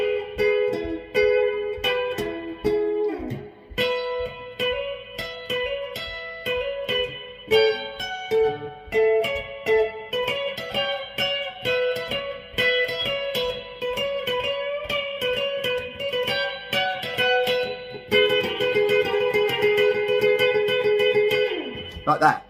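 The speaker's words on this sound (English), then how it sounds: "guitar solo number 2 sounds like this" An electric guitar plays the second solo, a lead line with effects, notes plucked in quick runs and sustained bends, loud and close.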